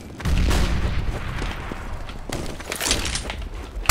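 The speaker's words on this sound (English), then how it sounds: "Flashbang!" Flashbang grenade detonation in a CS:GO match, a booming burst amid gunfire-like cracks and rumbling game noise, fairly loud with a sharp hit at the end and no talk.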